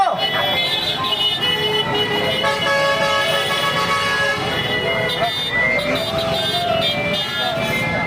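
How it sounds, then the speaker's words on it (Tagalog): Many car horns honk together in a loud, continuous blare at an anti-corruption protest, with engines and crowd noise underneath and voices mixed in. "Busina po tayo!"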